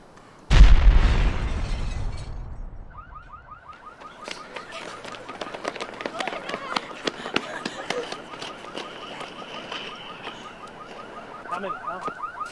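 A bomb goes off with a sudden, loud, booming blast that rumbles and fades over a couple of seconds. A car alarm then starts up and keeps wailing, with sharp crackling pops scattered over it.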